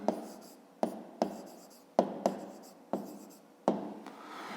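A pen writes an answer by hand on paper in a fifth-grade maths exercise, giving a series of short scratchy strokes with small taps and pauses between them, close and fairly quiet.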